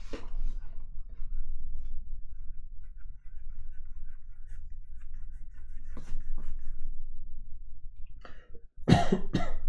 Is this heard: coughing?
yes